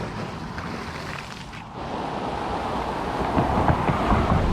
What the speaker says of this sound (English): And we got the rain coming again.